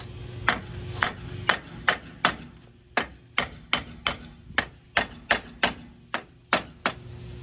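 A hammer strikes a brake drum on a 1959 Meteor about seventeen times in a steady, fast rhythm, each blow sharp and close with a short ringing tone.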